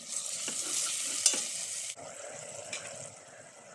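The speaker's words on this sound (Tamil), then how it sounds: "மசாலாலாம் சேர்த்து நல்லா இந்த மாதிரி எண்ணெய் பிரிகிற மாதிரி வதக்கிட்டோம்" Onion, tomato and masala with kuzhambu powder and turmeric sauté in oil, a low continuous sizzle with a few scraping stirs, fairly quiet and close.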